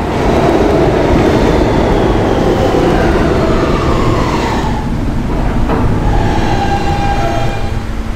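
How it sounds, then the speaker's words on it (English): A simulated R160B Siemens E train in the Roblox game PTA Subway runs along a track with a loud, continuous rumbling roar and rising and falling motor whine throughout. "This is a Union Turnpike bound E train."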